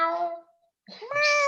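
A human voice imitates a cat's meow twice, a short nasal call followed by a pause and then a second rising, drawn-out one, close and loud during an interview.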